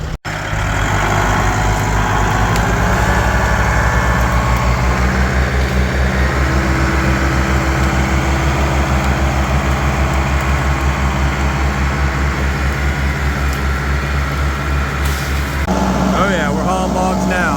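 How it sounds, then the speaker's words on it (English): Two tractors strain together to drag a felled poplar log, a steady loud diesel engine drone with deep low rumble running throughout, close by and continuous with slight shifts in load near the end. "We're gonna pull with both tractors."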